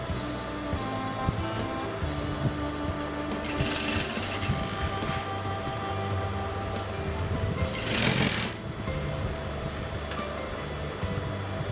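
A sewing machine stitching a collar in place, a continuous loud mechanical whirr with rapid needle chatter that runs steadily throughout.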